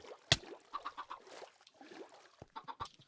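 Chickens cluck in short, uneven bursts on a Minecraft chicken farm, with a sharp click near the start and scattered soft game noises between the calls.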